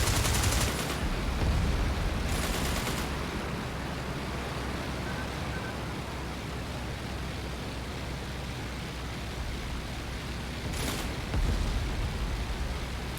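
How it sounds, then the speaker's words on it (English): Flight game aircraft strafing a trench line: steady dense roar of engine and gunfire filling the clip, with a few sharper louder bursts near the start and again near the end. "this time we're going to strafe it, not going to spend any bombs on it"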